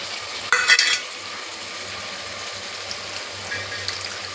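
Peas frying in a pan with tomato and ginger-garlic paste for matar pulao: a brief clatter of stirring near the start, then a low, steady sizzle that continues quietly on its own.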